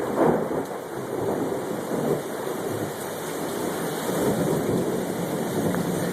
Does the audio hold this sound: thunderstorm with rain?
yes